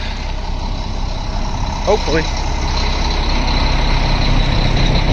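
A 460 HP pump engine runs steadily while priming to vacuum a pool, giving a continuous loud mechanical drone throughout, with a person speaking briefly over it near the middle.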